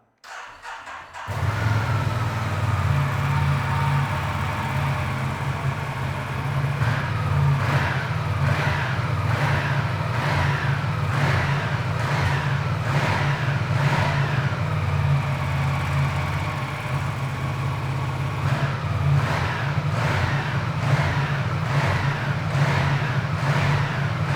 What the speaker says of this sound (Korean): 순정 머플러의 배기 사운드 한번 들어보고요.